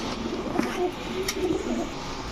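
A yellow female pigeon coos in low, muffled phrases under steady background hiss, close by and without talk.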